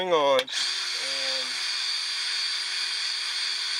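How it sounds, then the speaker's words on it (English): A high-pitched electric drill buffing out heavy scratches whines steadily, starting right after a brief spoken word and running continuously without pause, tending to bog down. "the drill's wanting to bog down on them heavier scratches"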